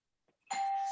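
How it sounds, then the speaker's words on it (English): A doorbell rings at someone's home during a call, a single bright sustained electronic chime that starts abruptly after near silence and rings on steadily. "I hear somebody with a doorbell and dog barking."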